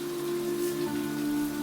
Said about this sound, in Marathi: गावातील हिरव्यागार परिसरात पावसाची रिमझिम चालू होती